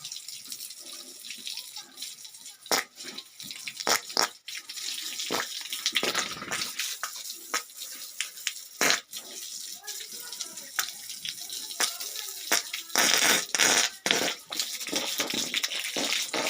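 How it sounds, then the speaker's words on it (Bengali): Water running from a pipe line at a pig farm, a continuous hissing splash with irregular bursts and knocks throughout, fairly faint. "তো আমার এখান থেকে পাইপ লাইন করা আছে, জল, তাতে কোনো অসুবিধা নেই।"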